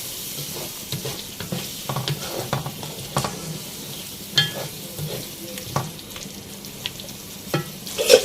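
Chicken karahi with yogurt stir-fried in a pan, a steady close sizzle broken by repeated scraping strokes of the spoon, with no talking.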